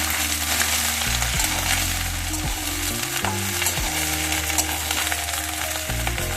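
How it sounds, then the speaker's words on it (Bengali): Onions fry in mustard oil with nigella seeds and a dried chili, a loud, close, continuous sizzle with stirring and clanks of a spatula against the pan throughout. "সর্ষের তেল সামান্য একটু কালো জিরে আর একটা শুকনো লঙ্কা দিয়ে পেঁয়াজ কুড়িটা ভাজতে দিয়ে দিলাম"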